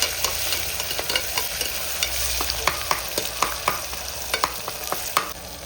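Crushed ginger sizzles in a hot pan for rava kichadi, with a continuous crackling fry and repeated clicks of stirring against the metal, close up and with no voices.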